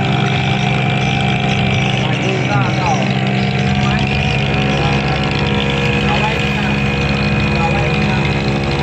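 A diesel-engined kloto river boat chugs past on the Melawi river beside floating houses, a steady loud engine drone with a constant whine, while someone talks over it.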